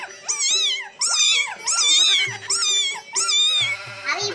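A human voice imitates a cat's meow several times in a row, drawn-out rising and falling mews, loud and close with brief pauses between them.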